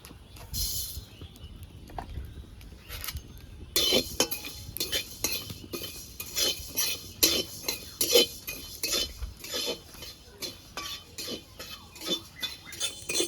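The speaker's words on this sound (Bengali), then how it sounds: "এবার ধনেগুলো ভেজে নেব।" Coriander seeds being dry-roasted and stirred in a wok while making a sweet-sour raw mango pickle: dense scraping and rattling of seeds against metal with sharp clinks from the stirring spoon, steady and close throughout.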